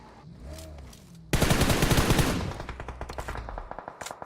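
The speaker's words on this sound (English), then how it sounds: "player 1 trying to get some shots there" Gunfire during a PUBG Mobile league finals match: after a quieter stretch, a sudden loud burst of rapid automatic shots, then continued scattered bursts trailing off.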